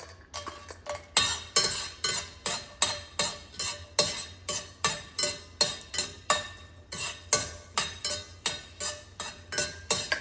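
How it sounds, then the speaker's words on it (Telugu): Red chilies are dry-roasted in a hot pan without oil, stirred with a utensil that scrapes and knocks against the pan in a steady rhythm, roughly two strokes per second, close and clear. "మిర్చీలు వేయించాలి కదండి"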